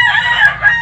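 A young gamecock stag, five to six months old, lets out a short, loud crow right up close, a single brief raspy call.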